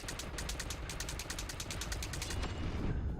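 A steady, rapid burst of light machine gun fire in a Kojima action game, rhythmic rounds hammering out evenly for a few seconds before cutting off, fairly close and with no speech.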